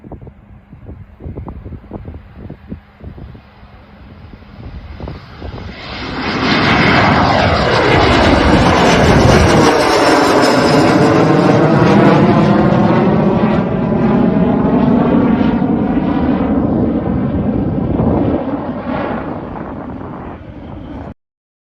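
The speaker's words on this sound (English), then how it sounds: "So that is the newest aircraft. It finally has had its maiden flight." A new aircraft on its maiden flight roars overhead, its engine building from a distant rumble to a loud, close pass with a sweeping pitch shift, then slowly fading. A few faint clicks are heard beforehand.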